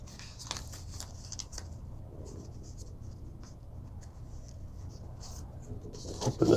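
Paper being folded for an origami butterfly, soft close rustles and crinkles over a steady low background hum, with a slightly louder handling sound at the end.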